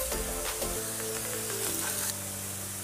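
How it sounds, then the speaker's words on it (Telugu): Ingredients sizzle and fry in a pan for an egg masala fry, a dense continuous hiss that eases slightly toward the end, close and steady with no talking. "లైట్ గా బ్రౌన్ వచ్చేదాకా ఫ్రై చేసుకోండి"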